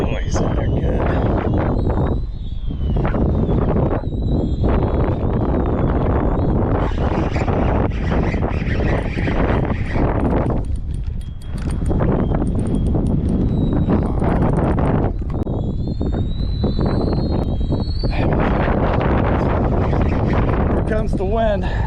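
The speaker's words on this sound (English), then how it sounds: "The wind. Hopefully you can hear me." Wind buffets a microphone beside a lake during bass fishing, a loud, steady roar with gusty surges that cover most of the clip, while someone talks now and then.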